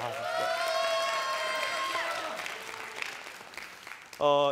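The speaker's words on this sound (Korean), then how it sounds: "박수 한번, 네, 잠깐 박수." A church youth congregation applauds, clapping running under a sustained sung or spoken voice with a faint crowd noise, then a brief louder voiced burst near the end.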